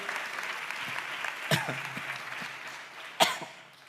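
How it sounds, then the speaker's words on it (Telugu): A church congregation claps in praise, a steady mass of applause with two sharp louder claps or knocks standing out, and a cough or throat-clearing in the room. "చప్పట్లు కొడుతూ దేవునికి స్తోత్రాలు చెప్దాం."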